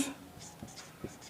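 Faint, brief scratching strokes of writing on a board during a Class 8 maths lesson on factorisation, a few short marks spaced apart in a quiet room.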